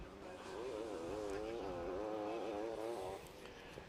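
Racing cars in Last Chance Qualifying for a GP event cruise around the circuit at an easy pace, a steady mid-distance engine drone with a wavering pitch that holds for about three seconds, then fades.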